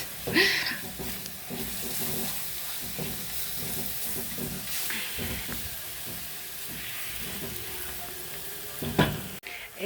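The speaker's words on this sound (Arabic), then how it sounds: "دلوقتي حطينا البهارات مع البصل وبشوح فيهم اهو" Chopped onion and spices sautéing in a pan, a steady sizzle broken by repeated scraping stirs, with a brief louder clatter near the end.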